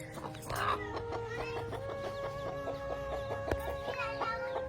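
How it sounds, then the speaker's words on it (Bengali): Hens and young chicks cluck and peep nearby in a steady string of short calls, fairly faint, with some quiet talk in the background. "আমাদের মুরগির বাচ্চা হয়েছে এখন, দেখো"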